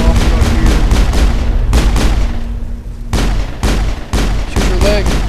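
Gunfire fills a Mass Effect firefight with loud, repeated heavy bursts of shots and booming impacts, broken by brief pauses.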